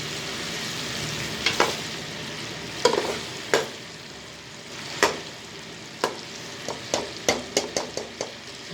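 Chicken karahi frying over a medium flame in a Karachi street-food kitchen, a steady sizzle broken by sharp metal scraping and stirring clanks that come faster toward the end, with no talking.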